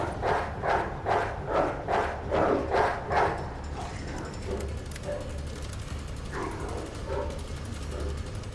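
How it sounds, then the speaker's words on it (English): Zombie dogs in Resident Evil 2 Remake bark in a rapid run of about eight loud, evenly spaced barks over three seconds, then drop to softer growls and scuffling with faint mechanical clicks. "I swear the AI on these dogs are just insane"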